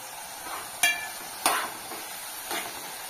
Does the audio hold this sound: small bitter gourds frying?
yes